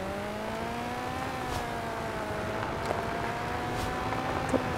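A Formula One car engine in a racing video game holds a steady, whining drone, with small shifts in pitch as the car runs a time trial, and no speech over it.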